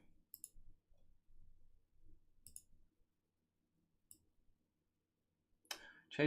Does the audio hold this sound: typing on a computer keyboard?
yes